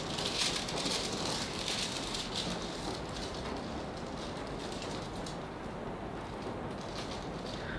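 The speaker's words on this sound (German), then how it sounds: "falls ihr den Regen mal wieder hört" Rain falling steadily outdoors, a continuous hiss and patter at low level with no breaks, faint and even throughout.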